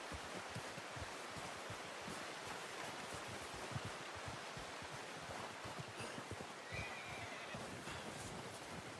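A horse neighs in Red Dead Redemption 2, standing out against a steady wash of rustling outdoor game ambience with no one speaking.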